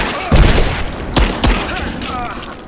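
Gunfire and a grenade blast in the Rise of the Tomb Raider video game, with sharp booming shots and a heavy thump in quick succession, loud and close, alongside in-game shouting.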